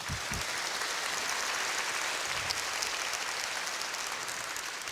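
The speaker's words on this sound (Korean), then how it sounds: "박수 한번 치세요." A church congregation claps together in steady, sustained applause that fills the space evenly and holds for several seconds without a break.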